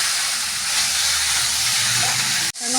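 Boiled potatoes and taro stalks fry in a pan, giving a steady hiss and sizzle that holds evenly, then cuts out sharply near the end before resuming.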